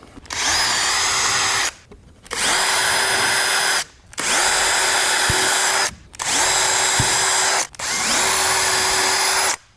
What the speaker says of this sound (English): So we'll start out drilling our side frames about 4 to 6 inches from the top corner.